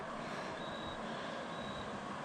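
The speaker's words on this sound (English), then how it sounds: "Oh, it's a train." A distant train rumbles steadily, a broad continuous roar with a faint high whine drifting in and out, no voices.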